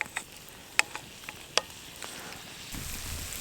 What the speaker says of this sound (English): I keep stirring the potatoes